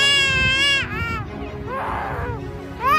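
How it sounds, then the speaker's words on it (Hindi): Black-collared starling giving loud, wailing calls that sound like a crying baby, several drawn-out rising and falling cries close by, with a voice talking faintly underneath. "Number 2, black collar stunning. इस पक्षी की आवाज ऐसी है जैसे कोई छोटा बच्चा जोर जोर से रो रहा"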